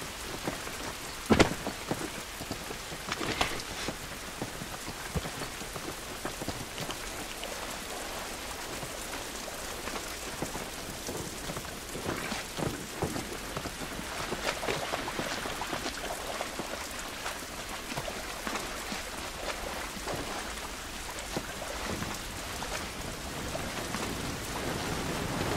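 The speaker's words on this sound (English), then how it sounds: "This rain ain't gonna do us any good." Steady outdoor rain from The Last of Us game fills the whole stretch, a dense hiss of drops on surfaces with occasional louder spatters and faint distant thunder, no talking.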